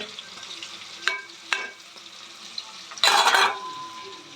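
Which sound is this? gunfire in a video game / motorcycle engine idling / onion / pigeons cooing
onion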